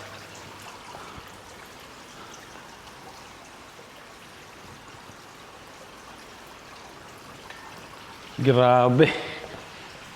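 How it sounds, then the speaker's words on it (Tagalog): Steady heavy rain falls outside a garage, a continuous soft hiss of drops throughout, and near the end someone briefly says a few words over it. "Tingnan nyo naman yung ulan,"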